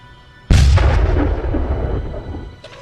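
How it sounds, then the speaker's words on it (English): A heavy weapon fires in the space-building game Space Engineers, a sudden loud booming blast that rumbles and slowly decays over a couple of seconds, with a faint second crack near the end. "it looks like it fired off in a weird direction"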